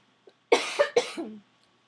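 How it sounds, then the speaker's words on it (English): A short burst of two or three close, sharp coughs, loud against a near-silent background. "Sorry about that. I sometimes cough when I get excited."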